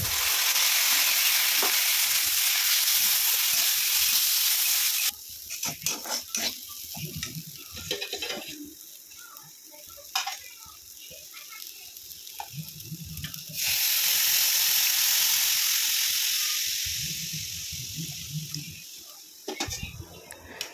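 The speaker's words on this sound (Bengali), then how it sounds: "প্রথমে ঘিতে কাজু বাদামটা ভেজে নিই, তাতেই চালটা একবারে একসাথে দিয়ে ভেজে নেবো" Cashew nuts and rice frying in ghee for rice pudding, a loud steady sizzle that drops away and swells back as the pan is stirred, with scraping and clinks of a utensil in between.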